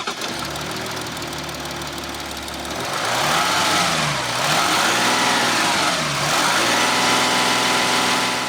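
Audi Q7 turbo V6 diesel engine running, a close, clattery diesel idle that rises into a couple of revs, the pitch sweeping up and down over several seconds, with no voices.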